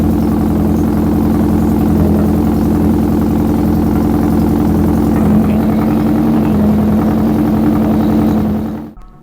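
A Volkswagen Golf engine runs steadily after being charged, a loud, even idle with a constant low hum that holds without talk until it cuts off near the end.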